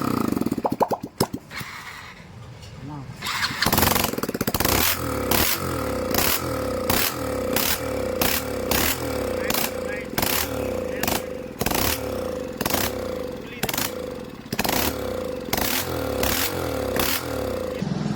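A fuel-injected motorcycle engine started and running with a fairly steady idle, close by and moderately loud, over a series of repeated clattering, clicking mechanical noises.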